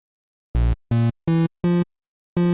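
Synth pluck built from three oscillators with sine and triangle waves, recreating the pluck from a song, plays five short, evenly spaced notes alone, each bright and harmonic with a quick cutoff and a brief gap before the last.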